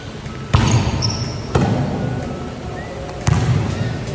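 A volleyball is struck hard with the hands during a reception: three sharp, loud slaps spaced about a second or more apart, each ringing over a noisy indoor court background.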